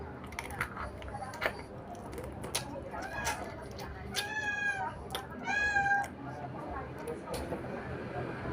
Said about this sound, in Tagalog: Medyo maingay guys yung aking pusa.